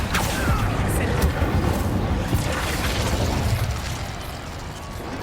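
Confringo spell blasts in the video game Hogwarts Legacy, a dense run of loud booming bursts and pops over a rumbling game soundscape, steady and close throughout.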